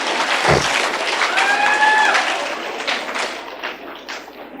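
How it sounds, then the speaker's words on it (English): A middle school audience applauds to welcome a new student, a dense wash of clapping from a room full of people that starts with a thud and slowly thins out, with brief voice-like tones partway through. "Everybody give him a welcoming round of applause."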